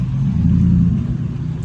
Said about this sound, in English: Traffic is horrendous.